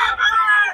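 A rooster in Bocaue crows briefly and loudly at close range, one short strained call.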